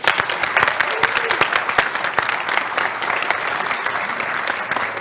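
Steady, dense clapping from a close audience welcoming new members at an HLWW MHS induction ceremony, crisp individual claps over a continuous roar of applause throughout.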